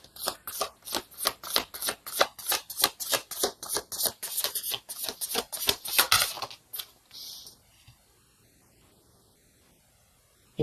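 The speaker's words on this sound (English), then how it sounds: "let's get one more card for the Wheel of Fortune" Tarot cards shuffled and drawn from a deck, a rapid run of crisp riffling flutters close by, then a single softer card slide before quiet.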